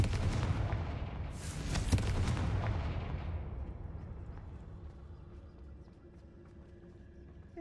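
A Confringo blasting spell going off in Hogwarts Legacy: a burst of crackling fiery impact noise that swells then fades into a lingering low rumble, with no talking.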